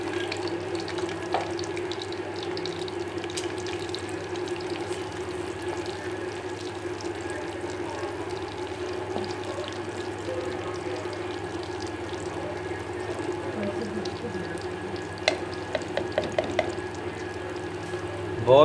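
Okra being fried in hot oil, giving a steady, even sizzle throughout with a faint hum under it and a few sharp clicks and taps near the end, and no one speaking.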